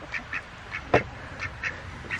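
A duck quacks repeatedly at a farm hay feeder, a series of faint, evenly spaced quacks with one sharper, louder call partway through.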